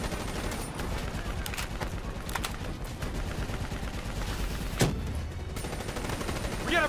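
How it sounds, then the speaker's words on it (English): Rapid gunfire in the Black Ops III video game campaign crackles continuously, dense and loud, with sharp individual shots standing out and a brief burst near the end. "Our weapons are no good against that APC. Why aren't we shooting that?"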